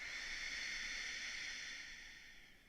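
One long, steady, airy exhale during a yoga breathing exercise in a beginner or prenatal flow, close and soft, fading slightly toward the end with no talk.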